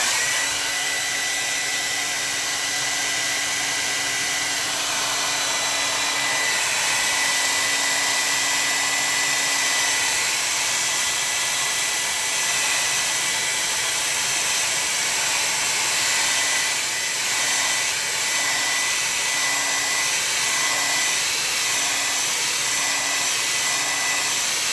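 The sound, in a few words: hair dryer drying a watercolor painting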